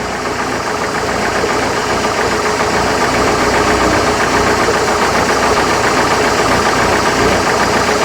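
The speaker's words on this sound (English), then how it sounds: "Now you heard me start it up, I heard a little tinny tin tin sound." A 1968 Starcraft Islander boat's Mercruiser 120hp engine runs steadily throughout, a loud, constant mechanical drone with a faint tinny ticking over the top and no voices.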